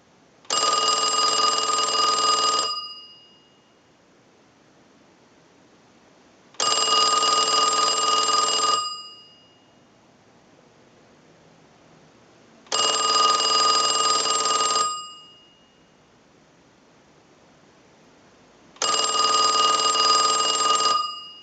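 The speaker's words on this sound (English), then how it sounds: "send a ring cycle like you were getting a call" An old Mickey Mouse model telephone bell rings in four long bursts, each about two seconds of loud metallic jangling, separated by roughly four seconds of silence.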